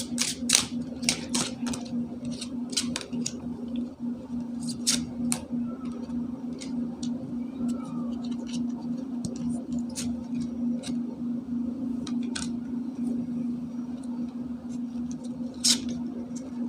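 Tarot cards being drawn and shuffled in a reading, producing a run of crisp clicks and light snaps, dense in the first few seconds and then sparser, over a steady low hum.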